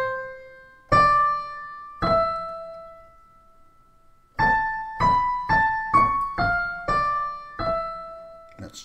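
Solo piano states a melodic theme in even quarter notes, augmented from its original eighth-note rhythm: a few opening notes, a brief pause, then a steady run of single ringing notes, clean and fairly soft.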